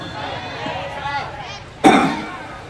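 A single sharp cough bursts out close and loud near the end, following faint murmuring crowd chatter and background voices at a religious lecture gathering.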